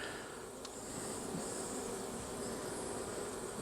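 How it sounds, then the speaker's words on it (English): Honey bees buzz steadily around stray drone comb after being smoked, a dense continuous hum close to the microphone with no talk. "a lot of the bees are gathering off the comb into the corner after I smoked them"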